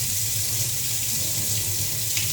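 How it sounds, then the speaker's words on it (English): Steady tap water runs continuously into a 3M Scott FRR gas mask as it fills, a close, even rushing sound with no talking. "we're gonna go right ahead and fill it up with water"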